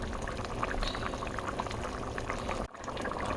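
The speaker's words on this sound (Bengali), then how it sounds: "তো গরম পানিটা দিয়ে দিলাম।" Boiling hot water pours into a pan of chicken and bean curry, a steady splashing, bubbling gush close up that cuts off abruptly near the end, then the simmer resumes.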